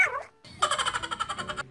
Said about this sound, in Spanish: Tengo aquí un aparatito que hace el ruido del gato.